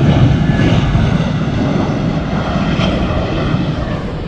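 American Airlines jet airliner landing in Aruba: a loud, continuous engine roar close by, holding steady throughout with a slight rushing swell.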